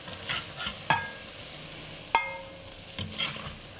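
Vegetables for a venison ragout fry in a cast-iron pot, with a steady sizzle under repeated sharp clanks and scrapes of a utensil stirring against the pot.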